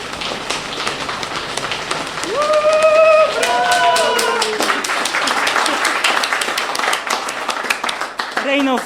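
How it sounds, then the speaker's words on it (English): Audience applause breaks out after a Polish poem reading at a multilingual evening at Sharmanka in Glasgow, with clapping building under a sung or spoken melodic voice early on and continuing steadily to the end. "rain of applause as well"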